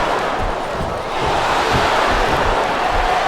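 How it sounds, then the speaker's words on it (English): Arena crowd noise from the WWE SmackDown vs Raw 2007 video game during an ironman match, a steady dense roar with rising murmurs and faint cheering that fills the whole stretch. "Sounds like this crowd's got something on their minds, King."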